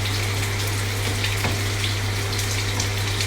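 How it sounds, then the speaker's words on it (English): A Moroccan chicken and vegetable stew simmers steadily in a pot, giving a continuous loud bubbling and sizzling hiss with no voices over it. "Just let that bubble away, nice and quietly."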